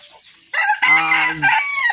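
Laying hens in a backyard organic egg flock cluck loudly and close up. Rising, drawn-out calls overlap in a short burst.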